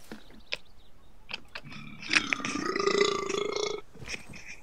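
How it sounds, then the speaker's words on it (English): A single long, drawn-out human burp, rising and rumbling for about two seconds, preceded and followed by brief clicks and small mouth noises, fairly close. "Your burp."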